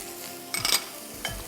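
Whole cumin seeds and round red chilies sizzle in hot oil, a steady frying hiss broken by two bursts of stirring and scraping against the pan.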